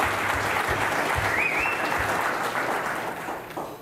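Audience at a 2006 community unity dinner clapping in a sustained round of applause for Jeevan Joshi, dense and steady throughout, thinning slightly toward the end.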